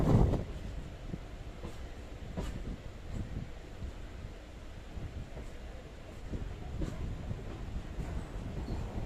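A MEMU train crosses the bridge over the Kalpathy river near Palakkad Junction, giving a steady, muffled rumble with soft rhythmic clacks and wind noise, heard from inside the carriage.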